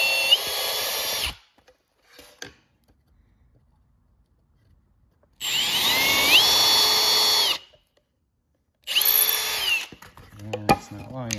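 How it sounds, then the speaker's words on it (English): A power drill pre-drills holes into very dry wood for a bird feeder, three loud close bursts of whining motor, the bit biting in with pitch shifts, separated by quiet gaps with faint handling noises. "So I'm going to pre-drill because this wood is very dry"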